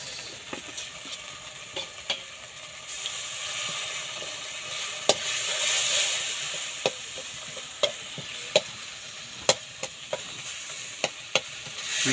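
Tomatoes sauté in hot oil for a village-style fish curry, a steady sizzle and hiss punctuated by sharp scraping clicks of a spatula stirring the pan, close and with no talking.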